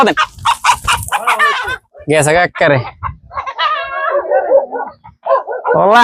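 Chickens on a desert farm in Saudi Arabia, with rooster-like clucking calls in short bursts close by, mixed with voices talking throughout.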